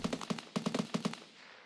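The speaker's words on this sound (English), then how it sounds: "maybe he won't hear me with the gunfire?" Gunfire crackles in Escape from Tarkov in quick bursts of several rapid shots with short gaps between them, fairly faint and distant, fading into a brief tail.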